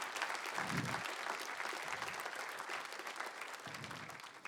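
Faint audience applause at an award ceremony, a sustained even patter of many hands clapping heard from a distance, with low thumps now and then.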